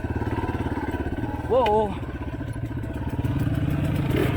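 A dirt bike chugging along a forest trail at Walker Valley, its engine pulsing in a steady, close, rumbling beat, and a rider exclaiming once partway through.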